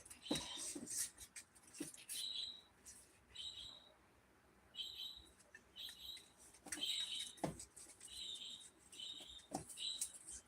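Birds chirp outdoors, heard through a slightly open door as repeated short high calls in an irregular rhythm over faint background noise, with a few soft thumps mixed in.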